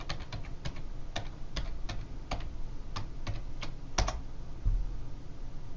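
Keys clatter on a computer keyboard as a username and password are entered for a login, a close, steady run of distinct taps with short pauses, with no talking.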